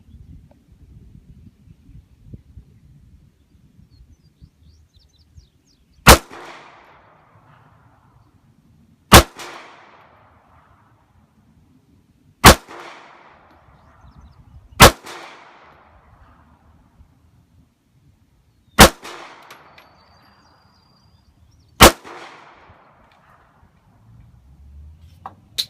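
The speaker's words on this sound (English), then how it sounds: "I'm going to start with this one, Kahr P380" Six sharp, evenly spaced shots from a small Kahr P380 pistol crack out a few seconds apart, each followed by a short ringing echo, with quiet pauses between.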